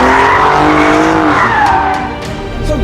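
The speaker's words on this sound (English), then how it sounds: "the long-awaited test drive of the Alfa Romeo Giulia Quadrifoglio is finally here" An Alfa Romeo Giulia Quadrifoglio saloon drives hard, its engine note loud and close with rising and falling pitch, with brief tire squeals breaking in near the end.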